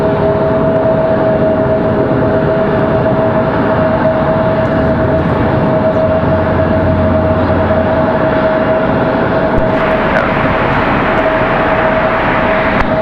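A Southwest airliner takes off from runway 23 left at Raleigh-Durham, its jet engines producing a loud, steady roar with a sustained whine throughout, the noise swelling a little in the latter part.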